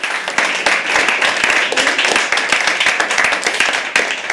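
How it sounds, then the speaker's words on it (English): An audience at a live poetry open mic at The Habitat claps in a sustained round of applause, dense and close, with many hands striking throughout. "Round of applause."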